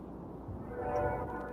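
A train passes nearby, a steady low rumble of rail cars that swells slightly louder toward the end, with a faint high tone from a horn or whistle partway through.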